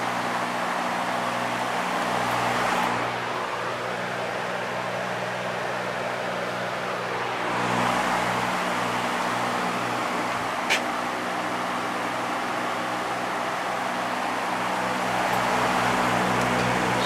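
A vintage Patton high velocity fan runs on its low setting, a steady motor hum under a broad airy whoosh that swells gently in slow waves, with no voices.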